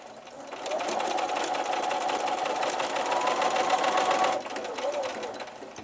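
A sewing machine runs steadily, stitching pieced quilt block sections together, its fast mechanical whir close and continuous for several seconds before easing off.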